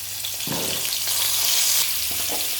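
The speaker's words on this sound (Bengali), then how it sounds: "প্রথমে আমি এই আলুগুলো ভেজে নেব" Potatoes fry in hot mustard oil with turmeric, giving a loud, continuous close-up sizzle with a few soft stirring knocks.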